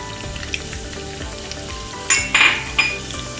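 Garlic and green chilli fry in hot oil, a constant close sizzle that swells into louder bursts of spitting near the end, with a faint clink of a utensil against the pan.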